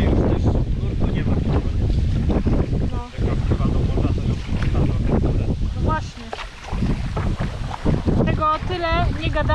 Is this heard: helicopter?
no